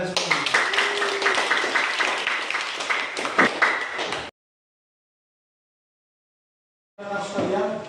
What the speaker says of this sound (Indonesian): Kalian tepuk tangan untuk kalian semua